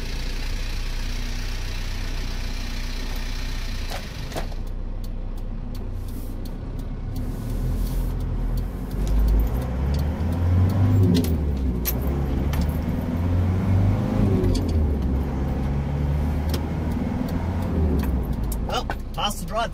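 A 1999 Holden Rodeo is driven on a test run after its ball joints were replaced. A steady engine drone and road rumble continue throughout, growing heavier in the second half, with scattered clicks and knocks.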